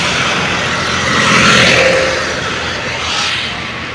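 A motor vehicle draws near on a village road, its engine rising to a loud pass around the middle before easing off, with a smaller swell near the end; no voices.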